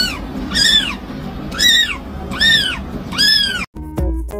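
A cat meows four times at an even pace, each call loud, clear and rising then falling, with nothing else underneath.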